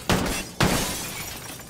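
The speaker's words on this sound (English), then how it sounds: "this glass breaks" Glass shattering in the Call of Duty: Ghosts video game, two sharp crashing breaks about half a second apart, each followed by a short tail of falling fragments, loud and close with no talk.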